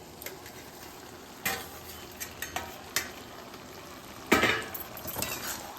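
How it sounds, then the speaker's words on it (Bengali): Bottle gourd, potato and prawns stirred in a kadai, with scattered scraping and clinking strokes of a spoon against the pan over a soft, steady sizzle, and no voices. "ভালো করে লাউ আলু চিংড়িটা আমি এই কড়ার মধ্যে মিশিয়ে দিচ্ছি।"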